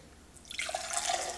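Water pouring from an Aozora water purifier pitcher with a UV disinfection light: a brief, soft splashing stream that starts after a moment of quiet and flows steadily for under a second.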